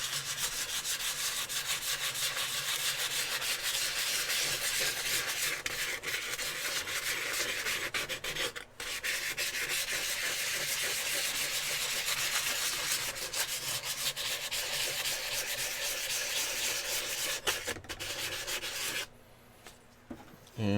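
A Scotch-Brite pad rubs a brushed texture finish onto a small metal pocket knife blade, a loud continuous close-up scratchy abrasion with steady strokes that stops briefly near the end, no speech.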